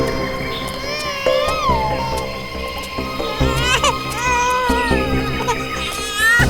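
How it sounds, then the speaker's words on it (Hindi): Wailing infant cries drift through an outdoor scene behind bushes, rising and falling in pitched bursts over a background hum, fairly close and continuous. "उस तरफ से बच्चे के रोने की आवाज आ रही है।"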